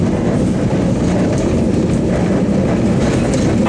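A Metra commuter train rolls over an old railroad crossing in Chicago, heard from on board as a loud, steady rumble with rhythmic clickety-clack of wheels over rail joints.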